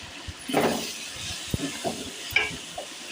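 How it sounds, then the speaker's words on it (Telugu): Green chillies fry in oil with salt while being stirred, giving a soft hiss and sizzle broken up by a few sharp scrapes and taps of a spoon against the pan. "పచ్చిమిర్చిని బాగా వేగనివ్వాలి"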